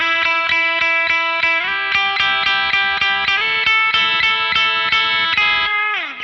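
Plucked electric guitar notes ring out through a delay and reverb effect, each repeating and washing into a lingering, echoing tail.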